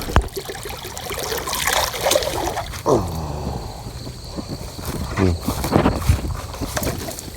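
Water scooped and poured over cucumber plants in a home vegetable plot, giving repeated splashing and trickling pours close by with gurgling surges, under steady outdoor background noise.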